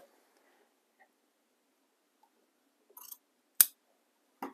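Scissors cutting quilt binding fabric, a few sparse close snips and clicks after a near-silent stretch, with a sharp crisp cut near the end.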